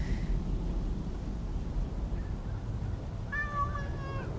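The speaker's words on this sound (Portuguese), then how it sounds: "O gatinho tá ali no meio também." A cat in Assassin's Creed Origins gives one clear, drawn-out meow near the end over a low ambient rumble, with a faint earlier mew.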